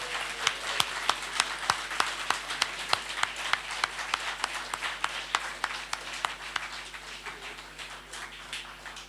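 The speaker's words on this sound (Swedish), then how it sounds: "Så ge en varm applåd till alla som har hjälpt till och gjort det här möjligt." A small audience at a political talk event gives applause, sparse distinct claps ringing out in a fairly regular rhythm, faint and somewhat distant over a low background hum.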